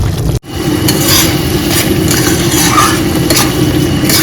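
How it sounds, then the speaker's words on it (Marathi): Chicken pieces dropped into sizzling masala and oil in a pan, a steady frying hiss with a thump of stirring and clatter of the spoon, close and loud. "आता आपण त्याच्यात चिकन टाकून घेऊया"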